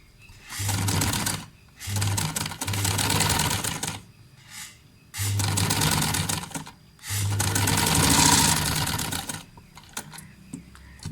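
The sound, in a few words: sewing machine stitching fabric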